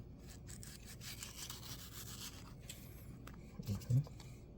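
A knife cuts open a Peach Cobbler mango with faint, steady rubbing and scraping strokes, ending in a couple of soft thumps. The sound is quiet and close.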